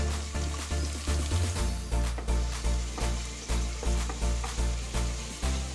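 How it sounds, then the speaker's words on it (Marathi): Finely chopped onion sautés in hot oil with a mustard-seed tempering and green chillies for bottle gourd shaak. A loud, close, continuous sizzle pulses in a regular rhythm as it is stirred. "आता ह्यामध्ये बारीक चिरलेला कांदा घाला आणि परतवून घ्या"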